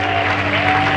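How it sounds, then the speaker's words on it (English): A church congregation claps during a Good Friday service, a brief dense burst of applause over steady sustained musical tones. "If your neighbor is clapping harder than you"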